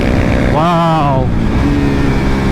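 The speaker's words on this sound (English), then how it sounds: "kicking it up into third gear while I'm making the turn" A KTM RC390 CUP motorcycle on a track day revs hard in second gear, then its quickshifter snaps it into third mid-turn. The engine roars loud and close, its pitch climbing steadily before a quick dip at the shift.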